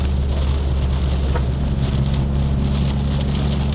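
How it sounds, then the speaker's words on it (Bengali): Rain pours steadily onto a car, a dense, continuous loud hiss of drops on the body and glass over a low, constant rumble from the vehicle, with no voices. "আচ্ছা বৃষ্টি তো"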